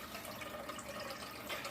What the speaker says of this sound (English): add water to the big pot here that I have